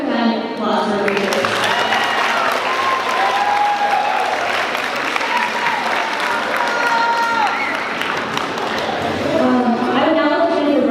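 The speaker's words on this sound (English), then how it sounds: "So we can have a quick round of applause for leaders" Sustained audience applause fills a conference closing ceremony for a model UN event, dense clapping with some cheers and voices rising over it, steady and loud throughout.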